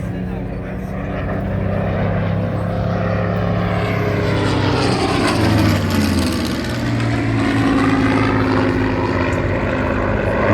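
A Supermarine Spitfire Mk VIII fighter aircraft in a flying display at the Central Coast Airshow 2022, its loud piston engine roar rising and sweeping past with a clear pitch shift, sustained over ten seconds.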